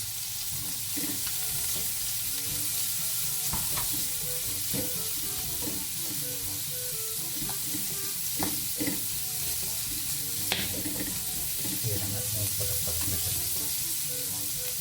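Garlic and onion sauté in a pan for a vegetable soup, giving a steady loud sizzle throughout with occasional stirring scrapes and light clinks.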